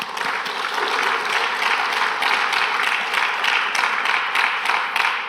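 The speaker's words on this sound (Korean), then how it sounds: "박수 한번 하겠습니다" Steady applause from a church congregation during a Sunday worship service, a dense, even wash of many hands clapping that holds at a constant level without pause.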